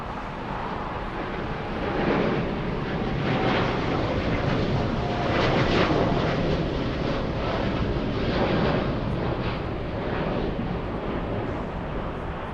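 A large airliner on approach to LAX airport makes a broad, distant roar that swells and then eases, partly buried under heavy wind buffeting on the microphone.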